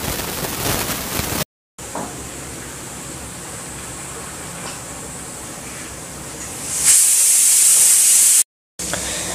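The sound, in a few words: grinding cumin, pepper and water into a paste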